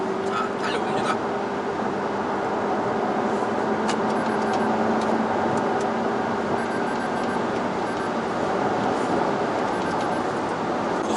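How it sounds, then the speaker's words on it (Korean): A Lexus UX cruises at high speed, heard from inside the cabin as a steady, muffled broadband rush of road and wind noise at constant level, with faint talk over it. "고속 주행을 한번 가보죠. 자, 달려봅니다."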